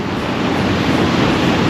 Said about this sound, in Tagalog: Sobrang lakas ng alon dito.